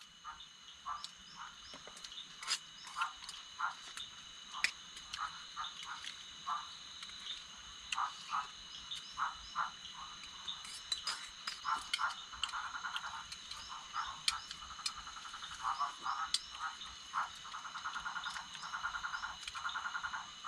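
Many frogs croak in a forest at night, with repeated short calls rising and falling in irregular bursts. A steady insect-like drone and some birdlike chirps sit behind them, and no one speaks.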